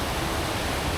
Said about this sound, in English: And from here you can see the waterfall.